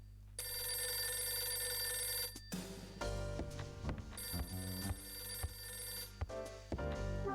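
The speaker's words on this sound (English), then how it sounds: "Phone's ringing." A telephone rings repeatedly inside the DS mystery game The Last Window: The Secret of Cape West, a steady electronic bell tone for a couple of seconds before giving way to louder music-like tones and clatter.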